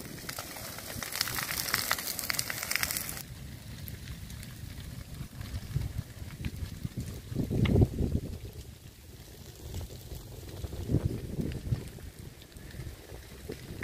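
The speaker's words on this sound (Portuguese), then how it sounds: "O fogo sobe muito rápido" Fire spreads quickly through a wasp nest, a dense rushing roar with crackles and gusty swells that rises and falls over several seconds, close and without voices.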